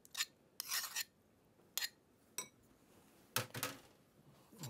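A utensil stirs breadcrumbs into partially melted butter in a bowl, giving quiet, close scraping strokes in irregular bursts separated by short pauses.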